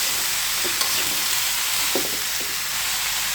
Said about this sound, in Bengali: এখন আমি চাল কুমড়াটা দিয়ে নিচ্ছি, দিয়ে একটু নেড়ে চেড়ে কষিয়ে নিচ্ছি।